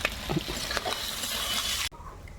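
Rohu fish head sautéing with ground spices in a pan, a steady close sizzle with stirring scrapes that cuts off abruptly near the end, leaving quiet room tone.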